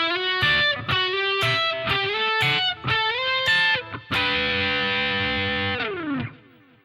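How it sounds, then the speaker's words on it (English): An electric guitar with heavy distortion plays a quick phrase in diatonic sixths, with sliding two-note shapes rising in steps, then a long sustained dyad that slides down and fades. "the final phrase uses sixes and sounds like this."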